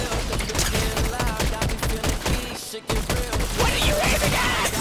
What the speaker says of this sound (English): These guns don't work up close, I swear.